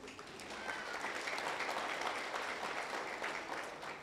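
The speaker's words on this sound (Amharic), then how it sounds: "አጨብጭቡ ደስ ካላችሁ" Congregation clapping at an Ethiopian church during a sermon on marriage, a sustained wash of many hands heard from some distance, fairly soft and even for around four seconds.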